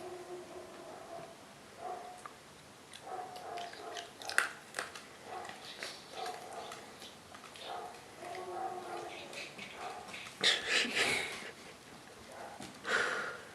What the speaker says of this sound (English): Little scavenger dog, Pixie